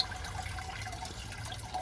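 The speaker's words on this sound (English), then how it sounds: "there's just the water coming down, hits the lava rocks" Water trickles steadily onto plain lava rocks in a Dutch bucket hydroponic setup, a soft, continuous close-up splashing with no talk.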